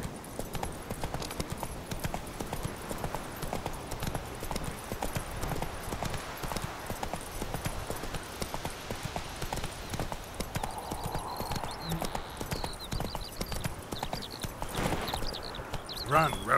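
Horse galloping in The Witcher 3: Wild Hunt, a steady rapid clip-clop of hooves running throughout at moderate volume, with a brief whinny near the end and someone speaking briefly.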